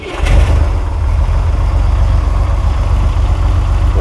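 A Pac Bell van, freshly fitted with a new fuel pump and wearing a turbo muffler, cranks and catches, then settles into a loud, steady idle close by.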